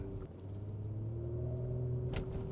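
A 2014 Nissan Pathfinder with a CVT transmission shudder, heard from inside while driving: a steady low engine rumble and drone with a faint wavering throb, then a brief harder jolt near the end.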